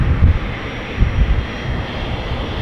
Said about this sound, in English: Is that the Phenom that landed a few minutes ago?